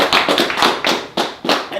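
Clapping from a talk show audience, a handful of loud, close, separate claps in an uneven rhythm.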